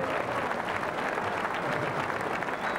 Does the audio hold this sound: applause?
yes